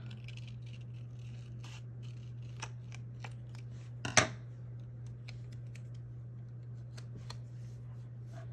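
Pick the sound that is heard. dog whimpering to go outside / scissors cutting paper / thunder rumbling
scissors cutting paper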